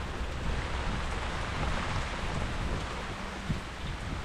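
Steady rain falls as a dense, even hiss of drops on surfaces, with a faint low rumble underneath.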